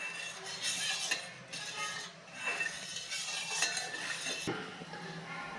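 Semolina being stirred into milk in a pot for rava kheer, a steady scraping and swishing of a spoon against the metal pot that continues for several seconds with no speech.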